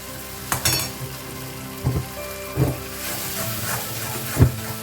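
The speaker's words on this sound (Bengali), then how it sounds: "টমেটোটাকে ভালো করে কষতে হবে" Tomato paste fries in a pan for a Bengali fish curry, giving a steady sizzle with a few louder spatters and stirring scrapes spread through the clip.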